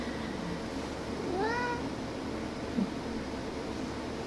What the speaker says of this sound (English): The cat's joining the party.